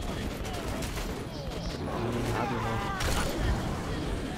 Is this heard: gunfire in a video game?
yes